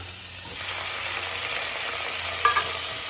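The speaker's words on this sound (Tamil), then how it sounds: "ஓகே, இப்போ தக்காளி போட்டுக்கலாம்." Tomatoes drop into a hot pan and start frying, with a steady close sizzle that swells after a soft start and carries a brief stir near the end.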